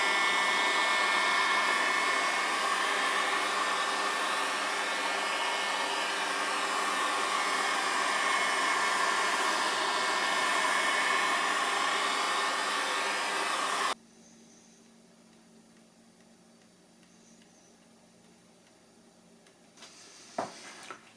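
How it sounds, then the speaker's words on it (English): Heat gun blowing on resin poured into a waney-edge oak serving board gives a steady, loud, fan-like whoosh that runs for about fourteen seconds. It then cuts off abruptly and leaves a faint quiet background with a small clunk near the end. "Now I'm going to try the pressure from the heat gun as an agitator."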